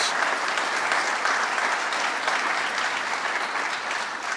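A crowd gives a full round of applause at the opening of a welcome center in Western New York, a continuous, even wash of clapping that stays loud for the whole stretch.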